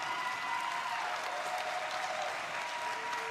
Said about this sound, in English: Everyone give a round of applause for James.